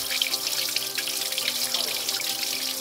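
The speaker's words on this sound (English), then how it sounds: "Liquid's obviously going to come out from the radiator." Coolant from a Talbot Express van radiator pours out in a steady, splashing stream, a continuous close watery rush with no pauses.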